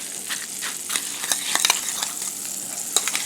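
A utensil mashes a defrosting frozen egg puck in a bowl, giving soft, wet, squishy scraping and tapping in an irregular rhythm, close and moderately quiet.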